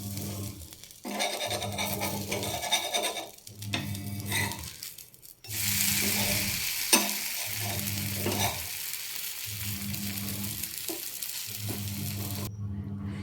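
A dosa sizzles on a hot pan while butter is rubbed over it in slow, repeated scraping strokes, each stroke a rough rasp over a steady hiss, close and alone without speech.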